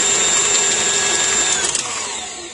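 A KitchenAid stand mixer runs with a loud, steady motorized whir and high whine, then winds down and fades near the end, with no talking over it.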